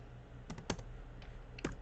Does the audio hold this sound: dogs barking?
no